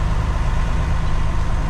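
A truck pulling double trailers rumbles through a turn with a loud, steady, deep engine drone that fills the brief stretch, with no speech.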